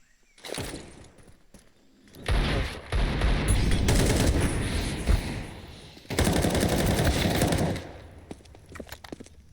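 Rapid automatic gunfire in a competitive Counter-Strike match, long sustained bursts of loud crackling shots separated by brief pauses and scattered single reports, with no voices over it.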